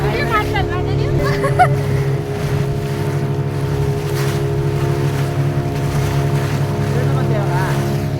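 Loud, steady drone of a motorboat engine on a lake near Ooty, with rushing water and wind, a voice briefly heard under the noise.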